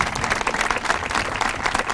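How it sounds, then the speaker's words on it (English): A crowd at a groundbreaking event applauds student services staff, a dense, steady wash of many hands clapping for two seconds with no speech over it. "Let us give you a round of applause."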